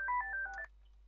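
Telephone keypad dialing tones: a quick run of several short beeping tones in succession, near and clear, then fading to quiet hum.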